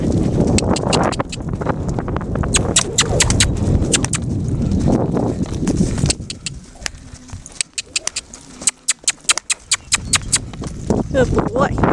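A horse cantering during a riding session, hooves clip-clopping in a steady three-beat rhythm, with a rider's voice and birds cooing in the background.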